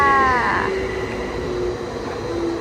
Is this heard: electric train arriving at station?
yes